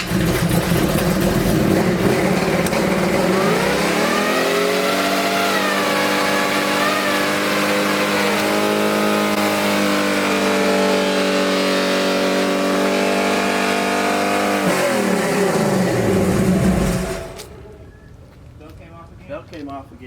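A Chevy C10 engine, idle for two years, cranks and catches, then runs loud and steady with shifting revs before cutting off abruptly near the end.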